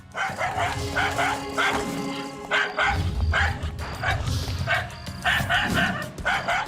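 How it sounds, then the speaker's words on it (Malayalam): A dog barks repeatedly in quick bursts, fairly close, with a steady low background murmur throughout. "ഇതെന്താ ഡോഗ് ഇങ്ങനെ കുരയ്ക്കുന്നേ?"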